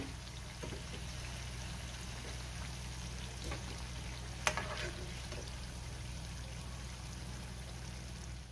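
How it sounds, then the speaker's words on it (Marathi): Aloo tikki frying in a pan, a faint, even sizzle with a low steady hum that runs throughout and a single small crackle midway, no voices. "आता ह्याच पद्धतीने मी राहिलेले टिक्की सुद्धा फ्राय करून घेणार आहे।"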